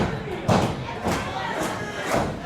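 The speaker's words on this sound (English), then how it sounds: "Gary's getting this crowd behind him." Crowd at an indie wrestling show, a rolling roar that swells in several waves over dull thuds, with a voice faintly audible underneath.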